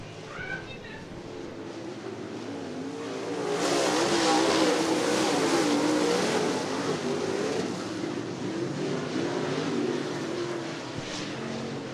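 Late model race cars roar around the Cottage Grove Speedway track during a heat race, engines swelling as the pack passes close and then fading, with an announcer calling the race over the noise.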